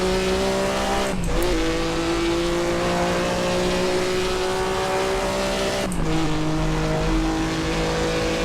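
A Maserati 250F race car's engine drones loudly at Monza in the Assetto Corsa video game, holding a steady pitch broken by two quick gear shifts where the tone drops and climbs again.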